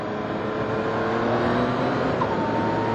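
A Yamaha MT-09 motorcycle engine pulls hard under acceleration, a loud, steady roar with a slowly rising tone and heavy wind noise heard from the rider's position.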